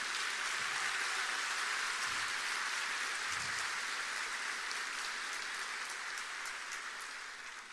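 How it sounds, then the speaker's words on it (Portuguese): A church congregation applauds during a sermon, a dense even hiss of many distant hands that holds steady and slowly fades toward the end. "Se é para Jesus, você pode aplaudir."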